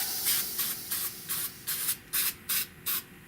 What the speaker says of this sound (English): spray me some well-through primer on there